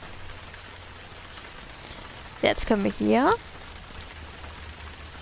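Steady hiss of rain falling in the RainCity video game, faint and continuous throughout, with someone briefly speaking over it midway.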